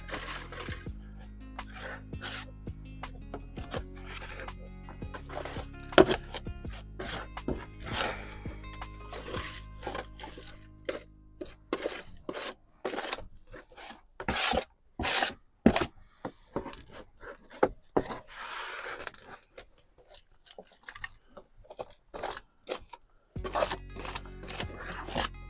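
Old potting compost is scooped and pushed into a plastic cell tray for sowing onions, producing close, irregular rustling scrapes and sharp crumbly bursts with quieter gaps between.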